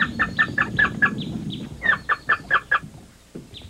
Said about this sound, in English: the source of the sound system, which is a digital chip that has the bird's voice recorded